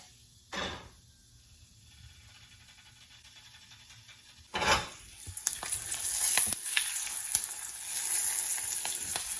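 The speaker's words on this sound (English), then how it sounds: "once the oil is hot, add mustard seeds" Mustard seeds and urad dal going into hot oil for a tadka: a quiet background hiss, a splash as they drop in, then a louder crackling sizzle with scattered pops and stirring scrapes.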